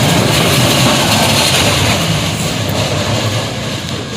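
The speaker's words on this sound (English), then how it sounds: "I had to let the train go by." A train rumbles past close by, a loud, broad and continuous roar of wheels and engine that stays steady and then eases slightly toward the end.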